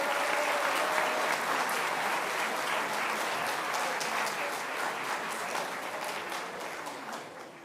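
Sustained, dense applause from a large audience at a high school awards ceremony, steady and loud throughout before tapering slightly at the end.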